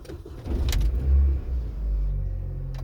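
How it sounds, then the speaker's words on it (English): Cold start of a Mini Cooper S R53 engine: a brief starter whir, then the engine catches with a low rumble that settles into a steady idle, close up with no talking. "start up the car, and then you'll see that it starts on the button every time"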